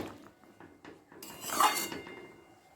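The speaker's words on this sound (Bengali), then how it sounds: "কাঁচা লঙ্কা আর মটরশুঁটিটা দিয়ে একবার ভালো করে আলু ফুলকপির সাথে মিশিয়ে নিয়ে" Potato and cauliflower chachchari with green chilli and peas stirred in a pan, a few soft scrapes followed by a louder clattering clink of a spoon against the metal pan, no voices.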